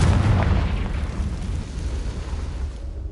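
A Confringo blasting spell goes off in the Hogwarts Legacy game with a deep booming blast. A rumbling decay fades over a few seconds.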